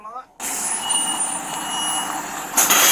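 A tow truck arrives on a roadside, its engine rumbling steadily while thin, high reversing beeps chirp at intervals, and voices can be heard around it.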